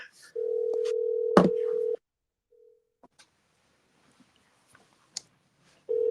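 A telephone rings through a Wi-Fi calling connection, one long electronic ring tone, a short tone fragment, and the start of another ring, separated by quiet gaps with faint clicks.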